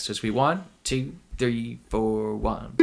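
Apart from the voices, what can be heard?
No everyday noise stands out behind the speech.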